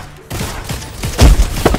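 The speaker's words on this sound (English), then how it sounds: "I hit one with my sniper while he was in midair" A sniper rifle shot in a fast online shooter game, fired at an opponent in midair, heard as a sharp loud report with booming thuds and rapid gunfire bursts crowding together over a couple of seconds.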